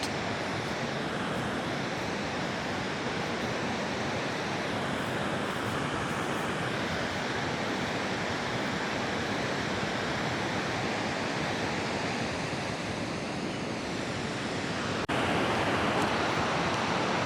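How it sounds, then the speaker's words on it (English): A constant, dense roar of water pouring over a weir, loud and unbroken from start to finish. "It's quite an impressive weir though."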